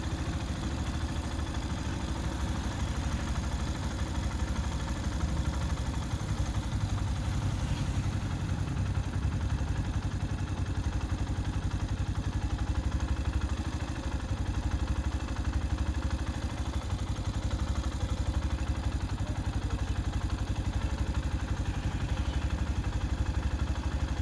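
A Yamaha FZ-S motorcycle engine idles steadily around 1450 rpm, a continuous even low rumble with a light mechanical clatter, close and unchanging throughout.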